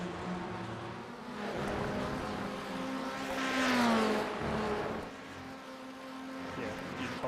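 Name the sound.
Formula 1600 race car engine at Brands Hatch, racing video game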